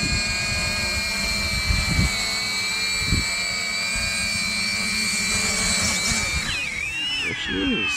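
An iVue Robotics drone coming in to land, its rotors putting out a loud, steady high-pitched whine with shifting tones as it descends close by, and a few short voice bursts underneath.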